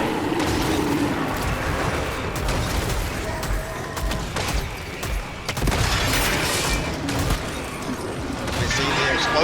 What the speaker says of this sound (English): You see the explosion is so big, the AoE hits like everybody and everything.